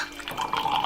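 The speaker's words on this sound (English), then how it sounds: "Right, so let's pour some tea." Tea poured into a cup makes a soft, close liquid trickle with a gurgling tone that rises in pitch as the cup fills over about a second.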